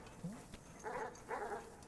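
Two short bursts of dog barking from the pixel-style exploration game Animal Well, each about a quarter second long and fairly close, with quieter game ambience between them.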